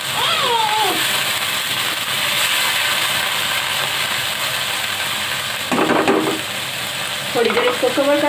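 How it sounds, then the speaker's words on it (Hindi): Chicken keema and onions fry in a pan with a loud, steady sizzle and hiss, broken by bursts of stirring and scraping near the end. "प्याज के साथ कीमा फ्राई कर लेंगे।"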